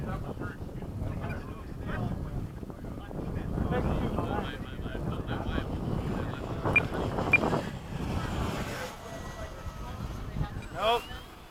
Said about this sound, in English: We got some weird wind going on.